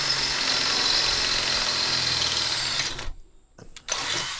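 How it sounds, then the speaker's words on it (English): A power drill boring holes to move an ATV sprayer mount, a steady close whine that winds down, pauses briefly, then spins up again. "It's drill time."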